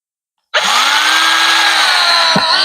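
A power drill pre-drills holes in reclaimed log wood for a garden bench, starting abruptly and running as a loud, steady whine close by, with a brief dip near the end.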